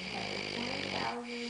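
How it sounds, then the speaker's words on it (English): A person snoring in a dark room, with a raspy, rumbling intake close by, followed by a quieter breathy tail. "You're snoring?"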